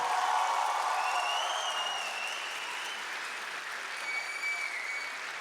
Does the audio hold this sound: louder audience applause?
yes